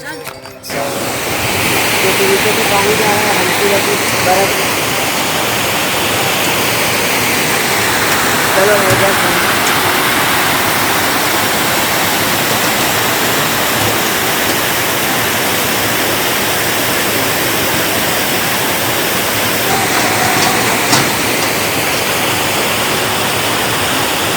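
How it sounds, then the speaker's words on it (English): A mountain stream rushes along the Hemkund Sahib trek, a steady broadband roar of flowing water that stays loud and constant throughout, with a brief burst of handling noise at the start. "That's the water flow which was there, where we stopped and took some pictures"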